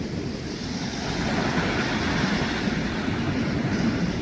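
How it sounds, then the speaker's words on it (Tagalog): Big ocean waves give off a steady, broadband wash of surf at a fishing spot. It sounds continuous and fairly loud, and no one speaks. "See, look, the waves big"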